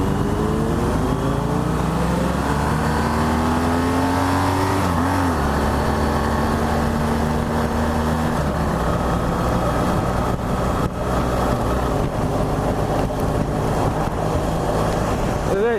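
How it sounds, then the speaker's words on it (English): A 2015 BMW R1200GSA motorcycle engine revs up as the bike accelerates, rising pitch sweeping upward then settling into a steady loud drone, close and continuous with strong rumble throughout. "So once you get up in the RPMs, you can feel the engine vibration more."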